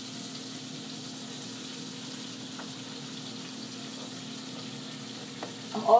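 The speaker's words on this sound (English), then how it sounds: "Next, I'm going to add my 3/5 spoons of spinach." Spinach fries in olive oil with a quiet, steady sizzle and a low hum, and a brief clatter comes near the end.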